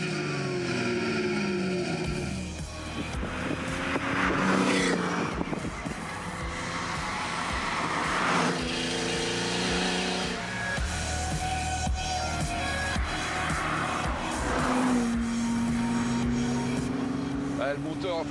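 A 2.5 litre flat-six car with a sport stainless exhaust, twin stainless silencers and a sport catalytic converter drives along, its engine droning and rising steadily throughout while people talk over it.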